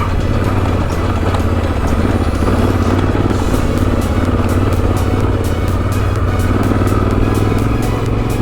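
An adventure motorcycle works along a rocky backcountry trail in Oregon in second gear, its engine droning loudly and steadily, close up, under heavy wind and rumble, with no talking.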